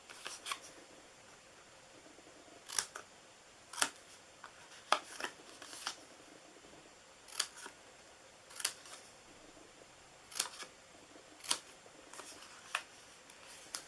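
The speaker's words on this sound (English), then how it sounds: "So I'm going to cut in here." Scissors snip through Stampin' Up card-stock pieces in a quiet craft room, about a dozen sharp, separate cuts in an uneven rhythm, close and crisp against a soft hiss.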